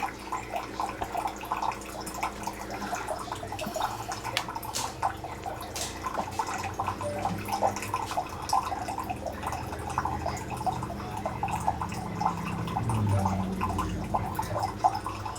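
A Keurig K Brew and Chill coffee maker brewing, with steady trickling and dripping liquid plus a low machine hum, close and continuous, no voices.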